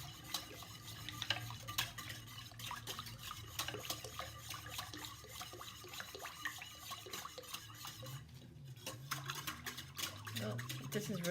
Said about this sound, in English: we'll see how long it actually takes to whisk a hot process soap to trace by hand